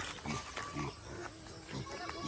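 Piglets on a farm grunting and squealing in short bursts at moderate distance, mixed with outdoor background noise.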